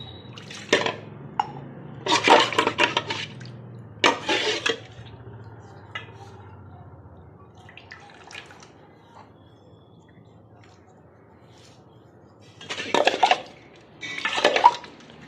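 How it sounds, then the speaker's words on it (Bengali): Clean water pours and splashes in and out of a copper or brass pot, close by, in short bursts of rinsing separated by quieter stretches of faint dripping and handling. "চলো এবার একটা পরিষ্কার জল দিয়ে ধুয়ে নিয়ে"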